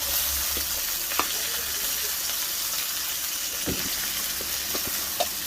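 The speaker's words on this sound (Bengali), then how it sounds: "মশলাটা কষানো হয়ে গেছে," A spice paste is fried down in a pan while cooking fish, giving a steady, close sizzle with scattered crackles and pops throughout and no talking.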